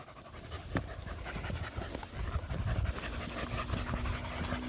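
Springer Spaniels panting rapidly and steadily close by outdoors in fields, quick rhythmic breaths with small rustles and jingles around them.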